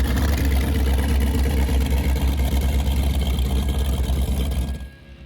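A 2001 34-foot Phantom powerboat with a single 850 hp engine rumbles close by, a loud, deep, steady idle throb that cuts off abruptly near the end.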